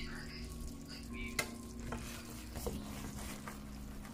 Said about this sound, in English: turn the stove down and just let it simmer down